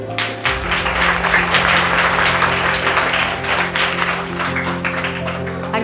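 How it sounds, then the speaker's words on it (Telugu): Sustained audience applause from a crowd at a talk on food and thinking, steady and fairly loud throughout with no break, beneath a faint low hum. "I clap for you all."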